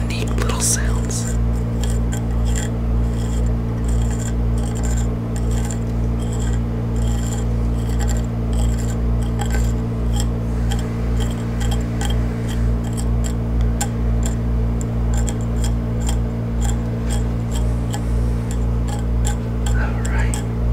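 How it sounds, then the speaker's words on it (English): Swords from a collection being handled, with metal blades producing steady faint scrapes, ticks and light rasping close up against a constant low hum, the small sounds repeating throughout with no voice. "I also love how each sword makes their own unique little sounds"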